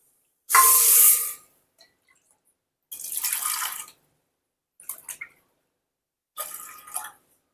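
Water poured in several short bursts into a pressure cooker holding washed lentils, about three cups in all for a soybean and chickpea dal, each pour a close splashing gush separated by pauses.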